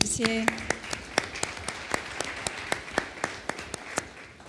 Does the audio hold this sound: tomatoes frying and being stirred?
no